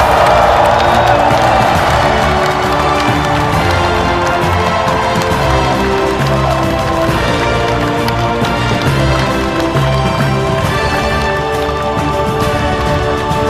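Large audience at the launch meeting of the 22nd Peaceful Unification Advisory Council giving President Lee Jae-myung a dense, sustained round of clapping and cheering that fills the hall loudly throughout, with music playing underneath.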